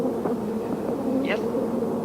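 A swarm of killer bees buzzes in a steady, dense drone heard from inside an airtight car, with a faint voice murmuring underneath.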